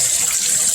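Running water from a tap pours steadily over beef ribs being rinsed after soaking in vinegar and lime, a close, loud, continuous hissing splash with no voices.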